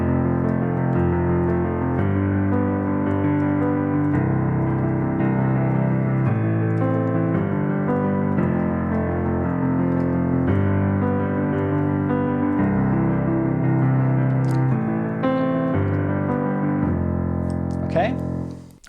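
A piano plays an accompaniment at full tempo, steady chords and a repeating pattern carrying on for nearly twenty seconds before fading out.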